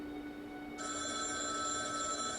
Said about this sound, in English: Listen, a telephone is ringing, an utterly incessant shrill with a metallic urgency